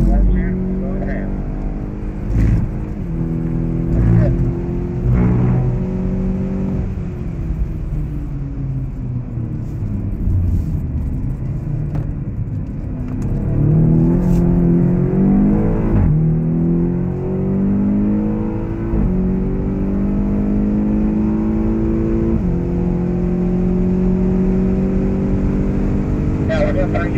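A 2015 BMW X6 M engine roars under full-throttle acceleration on the Circuit of the Americas track, revving up steadily in a continuous loud drone while people talk over it.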